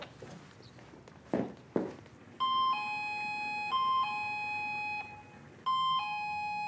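A home doorbell chimes in a drama scene, with a few footsteps first, then repeated sustained two-tone electronic rings at close, clear volume.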